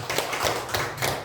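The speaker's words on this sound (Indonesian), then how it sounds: "Kita berikan aplaus kepada Pak Fahmi." Audience applause for a speaker at a school dissemination session at SD Negeri 14 Padang Aro, a short patch of light scattered clapping at steady moderate volume with no talk over it.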